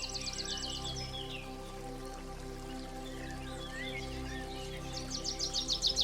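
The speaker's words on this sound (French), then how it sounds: "Tu entends le chant d'un oiseau, puis le bruit d'un ruisseau au loin." Chirping birdsong in short repeated bursts over a steady low hum and soft background patter, with a louder run of trills near the end.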